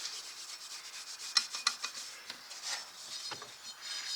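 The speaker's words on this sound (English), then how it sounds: "You can probably take some emery cloth or like a Scotch-Brite pad" Emery cloth rubbed on the drive belt sheaves of a Can-Am Outlander ATV, heard as soft, close rasping strokes at a quiet level with no talking.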